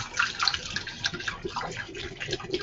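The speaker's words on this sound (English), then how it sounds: "I'm going to go ahead and pour this in here." Water kefir poured through a strainer into a bottle for a second fermentation, a steady splashing trickle of liquid that runs continuously, close and moderately loud.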